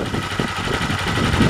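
A Honda minibike engine, already warm after a ride, idles steadily following an oil change and a flush with Wako's flushing oil, giving a close, continuous low mechanical rumble with a fine rapid pulse and no speech.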